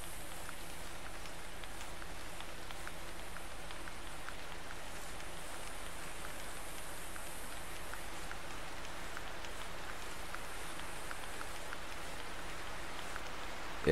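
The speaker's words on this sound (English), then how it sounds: "In this stupid rain." Steady rain falling in the hunting video game theHunter, a dense continuous hiss of drops on ground and foliage, even and unbroken for fourteen seconds with no talk.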